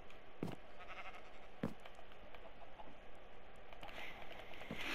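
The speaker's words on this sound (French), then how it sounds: "Là, nous avons le mouton noir et blanc." Minecraft sheep bleat in a blocky zoo enclosure, a few short, soft bleats spread across a quiet background with faint ambient noise.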